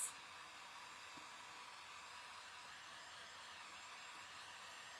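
A hair dryer blows steadily over a decoupage lamp shade, a constant breathy whoosh that starts with a brief click and holds an even, moderate level throughout, without speech.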